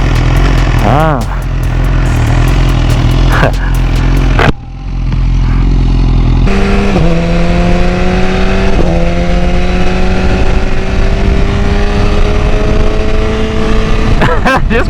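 A BMW HP4 motorcycle engine roars close by, dropping out briefly and then climbing through rising revs, with wind rush and clatter throughout.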